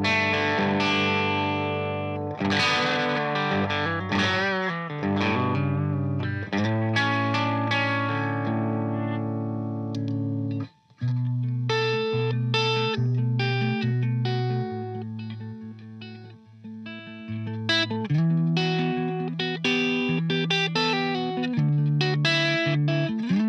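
An electric guitar with humbucker pickups plays through the high-gain channel of a Matchless Clubman 35 amp, giving a gritty, compressed, driven tone with sustained chords and single-note lines, one brief pause midway, and no talking.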